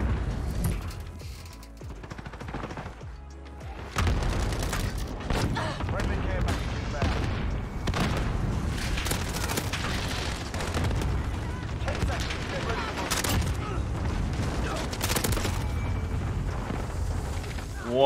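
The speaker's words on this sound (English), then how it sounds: "Allied cluster fire inbound." Cluster strike explosions and gunfire in a Call of Duty Modern Warfare match, a barrage of heavy booms and shots rolling on for many seconds amid game chatter and voices.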